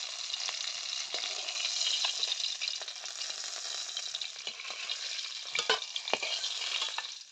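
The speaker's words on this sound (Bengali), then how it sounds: "মাছের মাথাটা কিন্তু খুব সুন্দর করে এখন ওলটপালট করে ভেজে নেব।" A fish head fries in mustard oil in a pan, giving a continuous dense hiss and crackle, close and steady, with a few sharper pops and utensil knocks as it is turned, and no talking.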